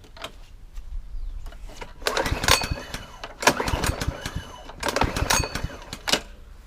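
A 2016 lawnmower's small engine sputters and fires in uneven bursts, loud chattering pulses with short gaps between, close by and with no talk over it.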